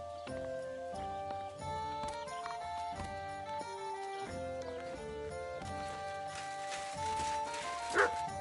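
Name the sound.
dog barking and whimpering, from the video game Kingdom Come: Deliverance II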